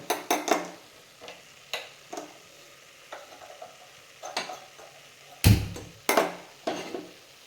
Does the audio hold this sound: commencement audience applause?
no